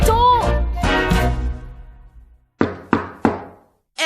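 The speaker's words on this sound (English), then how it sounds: "Just knock on the door." Three sharp knocks on a door in a quick, evenly spaced row ring out loud and close, just after a stretch of singing voices fades away.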